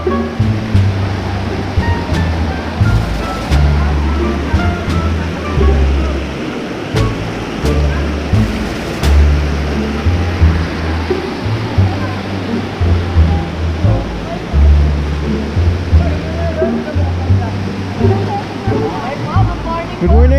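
Steady rushing water of a river flows throughout, a loud broadband wash with low churning, while people talk faintly in the background.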